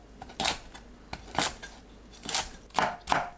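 A knife cuts shepherd's purse (naengi) into 1.5 cm pieces on a cutting board, giving about six sharp, separate chops at irregular intervals, close and fairly clear with no voices.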